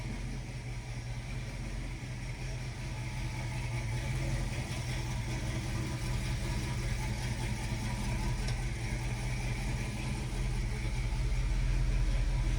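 A 1969 Ford Mustang Fastback idles with a low, steady, rumbling engine note, close and continuous, swelling slightly toward the end with no talking.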